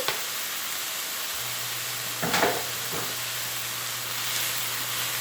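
Chopped onion hits a hot pan with browning chicken pieces for a chicken pot pie, giving a soft, steady sizzle and hiss with a few brief stirring scrapes and no voices.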